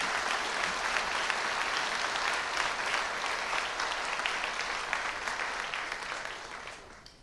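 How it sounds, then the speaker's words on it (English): Sustained applause from a large audience at the Mount Saint Vincent University fall convocation, thanking the volunteers: dense, even clapping that holds steady for several seconds and then begins to fade out. "join me in a round of applause to thank all the Convocation volunteers"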